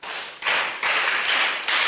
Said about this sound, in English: Clap your hands for him.